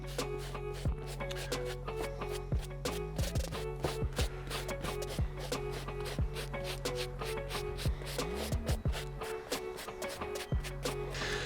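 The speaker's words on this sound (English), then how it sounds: "we're gonna gently dry brush the suede with this medium bristle brush" Suede Puma sneakers dry-brushed with a medium bristle brush: steady, rhythmic scratchy strokes, close and fairly quiet, over a constant low hum.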